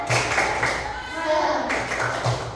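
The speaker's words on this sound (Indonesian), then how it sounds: "tepuk semangat." Fourth-grade class performing a spirit clap routine: quick bursts of group hand clapping at the start and end, with children and a teacher talking in between.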